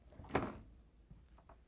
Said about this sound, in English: To get to the part, we need to open the right side French door.